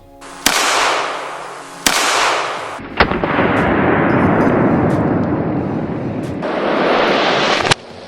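Gunshots are fired at an Olight PL-Pro 1,500-lumen weapon light sitting on a stump outdoors: four sharp, loud cracks spaced over several seconds, each followed by a long, roaring, rumbling echo, with no talking.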